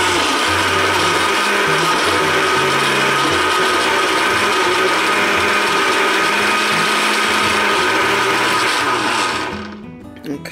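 Countertop blender running continuously, blending a piña colada mixture with a loud, steady mechanical whir and grinding rattle that cuts off abruptly near the end, with no talking.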